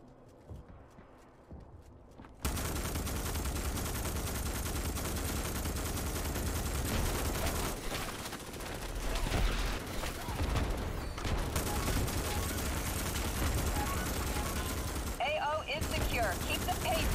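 Sustained gunfire in the sci-fi shooter Starship Troopers Extermination, a dense, continuous rattle of automatic weapons mixed with chaotic battle noise after a quiet start, loud and unbroken with no talk.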